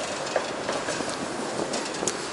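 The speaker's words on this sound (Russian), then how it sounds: "Еще один трамвайчик поехал." A tram running on city rails on a winter street, heard as a steady, loud rolling rumble and hiss with faint clicks throughout, no talking.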